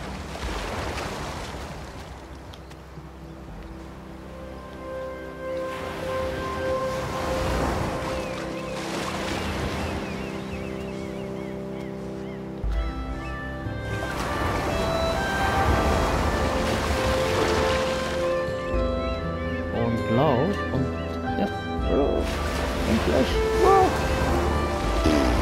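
Sea waves in the Unravel video game wash and surge steadily beneath layered game music, rising and falling in broad swells at a moderately loud level.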